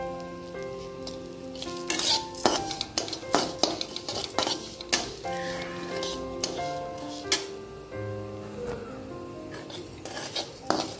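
Red poha and almonds roast in ghee in a pan with a soft sizzle under repeated metallic clinks and scrapes of a spoon against the pan at an irregular rhythm, close and moderately quiet.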